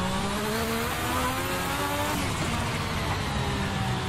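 A 1980s turbocharged Williams Honda FW11 Formula One engine in Assetto Corsa drones and revs continuously, with rising and falling tones and turbo lag over a constant wash of noise, no voices.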